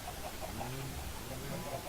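Soft, distant clucking from Minecraft farm chickens, a few short bird calls over a dense background hiss, faint and brief.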